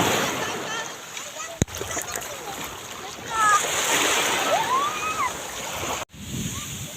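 People bathing in the sea off Ilocos splash and slosh through the water nearby, with steady surf and several voices calling and chatting over the continuous splashing.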